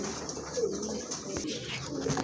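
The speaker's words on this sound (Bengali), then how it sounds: "খুবই ভালো মানের এক জোড়া কবুতর" A pair of pigeons coo softly at a market stall, low murmuring calls repeating over a steady background hum.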